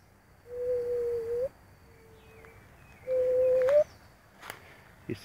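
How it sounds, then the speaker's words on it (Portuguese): Juriti dove (pomba juriti) song heard in a garden with blooming busy lizzie plants: two sustained, steady cooing notes, moderately loud, separated by a pause, with faint ambient background and a brief click near the end. "Esse canto que vocês estão ouvindo aí no fundo é o canto da pomba Juruti"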